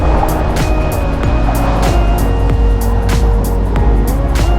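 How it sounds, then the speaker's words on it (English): A sailboat motor-sails under engine in wet weather off Lennox Head on the Australian east coast: a loud, steady engine drone mixed with rushing wind and water, continuous throughout. "We're just doing a bit of motor sailing to keep our numbers up."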